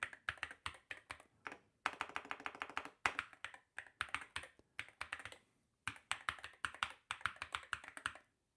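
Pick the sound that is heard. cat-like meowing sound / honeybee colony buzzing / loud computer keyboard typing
loud computer keyboard typing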